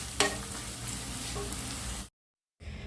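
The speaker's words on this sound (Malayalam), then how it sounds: "ഉള്ളി നന്നായിട്ട് മൂത്ത് വന്നിട്ടുണ്ട്. ഇതിലേക്ക് കുറച്ച് കായം കേട്ടോ, ഒരു നുള്ള്." Onions fry with a pinch of asafoetida in oil for Kerala-style tomato rice, a dense close sizzle with light stirring clinks, cutting to silence briefly before the sizzle returns.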